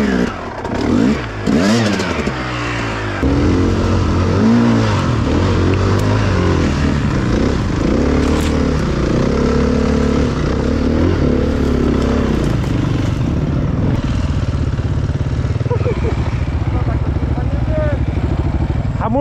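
A 250cc two-stroke motorcycle engine revs loudly and close by, its pitch climbing and dropping in repeated throttle blips over a continuous running drone throughout.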